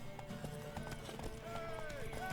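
Horse hooves clip-clop rhythmically in The Witcher 3, with a brief whinny. The hooves sit close under game music, with speech-like voices around them.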